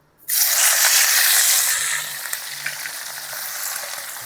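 Jaffna-style Singi shrimp dropped into hot oil, bursting into a loud, sustained sizzle that settles into steady, close frying with small pops and crackles.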